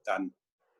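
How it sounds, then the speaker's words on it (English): A single dog bark in the background during a planning team meeting: one short, loud, clipped burst, then near silence with faint murmuring at the end. "You can hear barking in the background."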